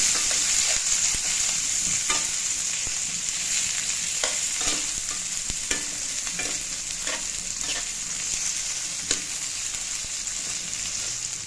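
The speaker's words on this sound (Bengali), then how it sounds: "এবার কেটে রাখা টমেটোগুলো দিয়ে দেব। কিছুক্ষণ নেড়ে চেড়ে এটাকে মেশাবো এবং ভাজবো।" Chopped tomatoes added after garlic, stirred and fried in a pan: continuous close sizzling with regular scraping strokes of a spatula every second or so, no talking.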